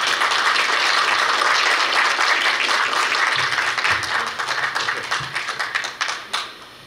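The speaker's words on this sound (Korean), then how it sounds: "특별 강연으로 와주신 진정일 교수님께 큰 박수 부탁드립니다" An audience at a university graduate school entrance ceremony applauds a guest lecturer, steady dense clapping that holds, then thins into scattered individual claps before fading out.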